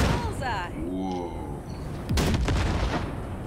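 A Basilisk hovertank in Cyberpunk 2077 fires on wrecks, with heavy booming blasts and a loud burst of cannon fire near the end. Voices talk over the first half of the firing.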